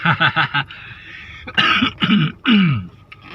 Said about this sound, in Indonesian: Aduh, batuk teman.